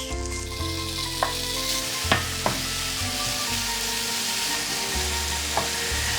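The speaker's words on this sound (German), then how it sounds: "als allererstes müssen wir den Speck ein bisschen anbraten, aber nicht zu kross, nur leicht glasig" Bacon sizzles steadily in a pan on moderate heat, a continuous crackling hiss with a few utensil scrapes and clicks, close up and alone.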